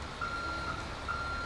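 A Peterbilt tow truck wrecker in GTA 5 backs up, its reverse alarm sounding a steady, evenly spaced series of high beeps over a low engine hum, moderately close.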